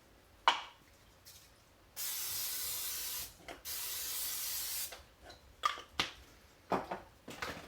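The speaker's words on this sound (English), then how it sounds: "it's asking us to mist the top of it with a spray oil" Spray oil misted onto the top of bread dough in a home kitchen during Thanksgiving prep: two sustained hissing sprays, each lasting over a second, close and steady, framed by scattered clicks and handling knocks.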